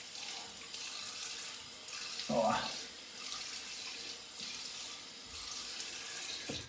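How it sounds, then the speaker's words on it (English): Cold water runs steadily from a tap into a sink for a post-shave rinse in a continuous close hiss. Brief splashes interrupt it, and a voice murmurs once. "Cold water rinse."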